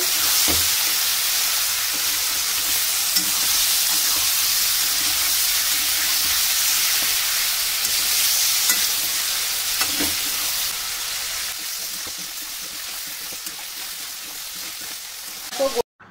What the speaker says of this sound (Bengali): দিয়ে একটু ভাজা ভাজা মতো করে নেব।